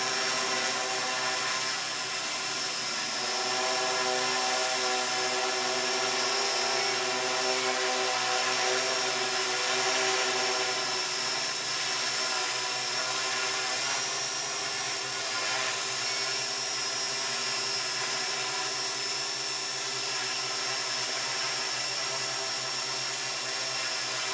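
A Walkera QR X800 drone flies with a steady, high, buzzing rotor whine that stays even and continuous throughout, with no talking.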